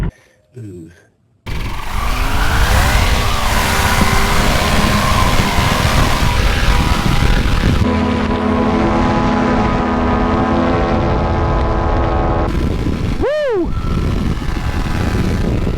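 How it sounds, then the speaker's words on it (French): A small aircraft taking off, heard from close by: the engine roars up after a brief quiet start and holds a loud, steady drone with shifting tones, while a rising-and-falling whine sweeps through near the end. "Tu vois quand on arrive à décoller?"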